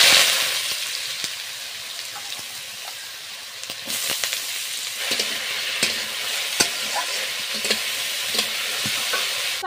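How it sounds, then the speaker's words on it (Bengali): Potatoes frying in a pan for aloo bhaja in a home kitchen, a steady bright sizzle with repeated scraping and clattering from stirring throughout, close and fairly loud with no talking. "এবার আলু ভাজা করব।"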